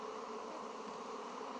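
Honey bees buzz steadily in an open hive during inspection, a faint, continuous hum with no breaks and no voices.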